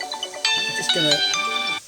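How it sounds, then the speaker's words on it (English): A mobile phone ringtone plays a bright, melodic run of electronic notes, loud and close, while someone talks over it. "That's my phone ringing."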